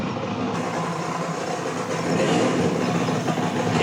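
A ride train brakes to a halt as copper alloy fins pass through a magnetic field between magnets, a loud, steady rushing roar that swells slightly partway through and holds to the end.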